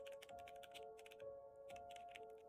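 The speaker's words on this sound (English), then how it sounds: "then came the typing keyboard sound. This time, slightly louder and slightly faster" Quick bursts of keyboard typing in an office at night, soft and fairly close, tapping in uneven rapid clusters with short pauses between runs.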